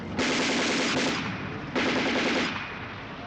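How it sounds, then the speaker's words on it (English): Machine gun fire from the film Salò, in the Marzabotto scene where a boy trying to escape is gunned down: two long, loud, sustained bursts of rapid automatic fire, with a short gap between them and no voices. "We get to Marzabotto where one of the boys tries to escape but is gunned down."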